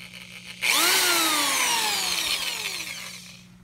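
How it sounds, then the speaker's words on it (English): A corded power drill whirs up suddenly and runs steadily, its pitch gliding downward as the motor loads, close and loud, then slowing near the end. "I'm gonna drill this way"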